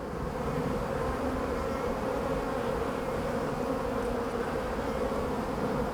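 Honeybees buzzing around a freshly paint-marked queen walking on a hive frame, a steady, close, continuous drone that holds even throughout.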